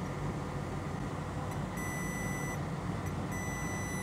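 A multimeter in diode mode beeps while probing an iPhone 6 logic board for a short circuit, two steady high-pitched tones each lasting under a second over a loud constant background hiss.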